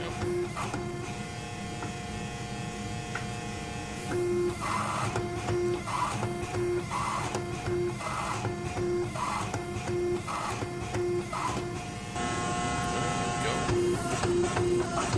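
A forging press works hot steel for an axe head in a shop, with a steady mechanical hum and repeated rhythmic pulses and thumps as the press cycles over and over at close range.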